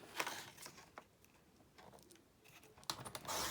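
Paper being trimmed for a mini album page, with faint, sparse scraping and clicking strokes, a few sharper snaps standing out against quiet room tone.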